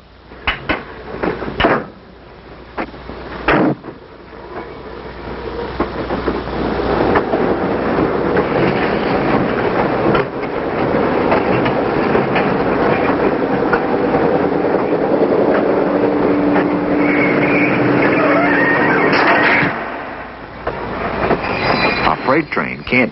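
Freight train railcars roll through a rail yard with a long, steady rumble of wheels, scattered clanks and knocks at the start, and faint metallic wheel squeal, close and loud throughout.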